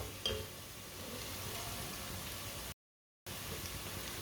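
Garlic frying in a pan, a soft steady sizzle with faint crackles, quiet throughout and cut by a brief dropout of silence near the end.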